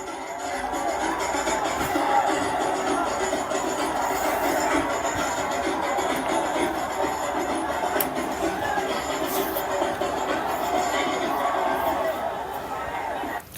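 A large night-time crowd at an AIMIM political rally in Maharashtra, a dense continuous murmur of many voices with occasional louder shouts, steady and fairly loud throughout.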